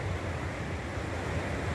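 A creek running high, out in woods off the trail, makes a steady, full rushing roar. The sound is fairly close and continuous, with a breezy hiss and no talking.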